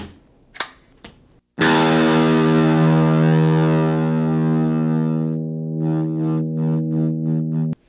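Matte purple Firefly FFSP Les Paul-style electric guitar sounds out through heavy distortion: after a few picked notes, one loud chord rings and sustains for several seconds, then quick chopped strums in a steady rhythm, with no talking.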